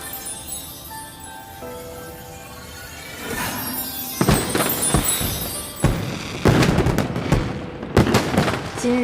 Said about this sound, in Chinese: 再为我放一次烟花。